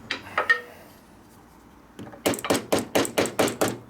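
About eight sharp metallic hammer blows ring out in a steady rhythm after a quiet pause, preceded by a few lighter taps, on manifold parts of a 1972 Harley-Davidson FLH shovelhead engine.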